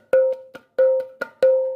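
Untuned ketipung hand drum struck a handful of times, sharp close hits with a ringing, boxy pitched tone that decays quickly between irregular strokes.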